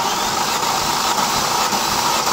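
A 1999 Mercedes ML430 278 hp petrol V8 cranks over steadily on the starter during a compression test, a loud continuous whirring drone with faint rhythmic pulses and no talking.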